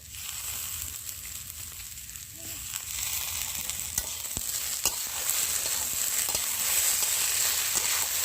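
Potato, onion stalks, green chili and chopped tomato fry together in a pan, a close, steady sizzle broken by stirring scrapes and occasional clicks of the utensil, with no talking.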